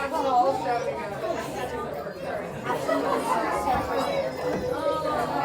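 Dense crowd chatter fills the Walt Disney Theater aboard the Disney Treasure cruise ship, a steady wash of many overlapping voices at even loudness with no single voice standing out.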